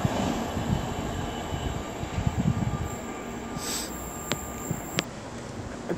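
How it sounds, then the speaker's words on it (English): A Great Western Railway class 158 diesel unit pulls into Cheltenham Spa station, a steady rumble of wheels on rail with a faint high squeal and a couple of sharp clicks as it draws in, no voices. "now approaching is going to be the delayed 1324 Great Western Railway service to Weymouth, coming in from Great Malvern"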